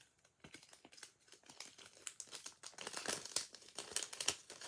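Paper stars from a Christmas card kit are peeled off and cut out, producing close, faint crinkles, rustles and quick snipping ticks that grow busier and denser toward the end.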